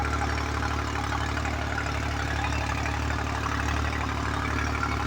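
A tractor runs in a farm field during wheat sowing, its engine a steady, unbroken low drone heard up close. No voices are present.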